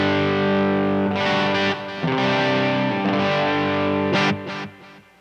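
An electric guitar plays through a Bluguitar Amp 1 set to zero gain on its Vintage channel. Sustained chords ring out with clear, rich overtones and a touch of delay, with a few brighter strummed accents near the end.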